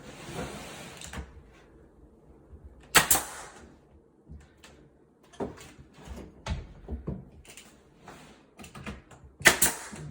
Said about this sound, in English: I just take a brad gun.